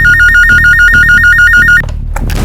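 Loud electronic telephone ringtone in a crime drama, a rapid warbling two-tone trill repeating for almost two seconds before cutting off, followed by a few brief clicks and rustles.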